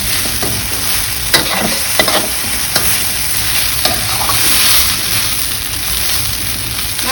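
Rice vermicelli noodles are stir-fried with vegetables in a pan, a loud close sizzle with repeated scraping and tossing strokes of a spatula, steady throughout with no voices.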